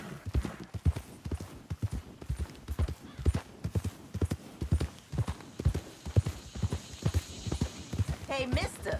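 Steady rhythmic clip-clop of horse hooves trotting in Red Dead Redemption II, close and clear, with a short whinny near the end.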